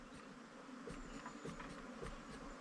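A large mass of honeybees about to swarm hums as a steady, fairly faint buzz, with brief individual bees droning louder as they pass close by, and no voices present.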